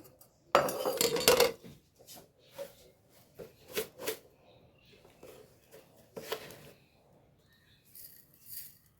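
Sugar is spooned into a homemade date drink: a loud burst of metal-on-glass clinking and scraping, then scattered lighter taps and clinks with quiet gaps between.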